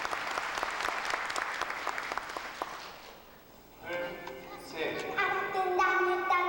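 An audience breaks into loud clapping that fades out after a few seconds, then voices and chatter rise in the hall.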